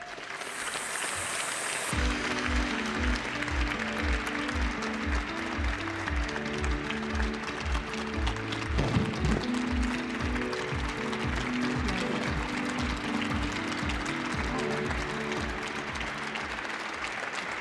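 An audience at the TAPS Honor Guard Gala applauds steadily, a broad, sustained wash of clapping that sits over rhythmic music with a driving beat, continuing evenly throughout.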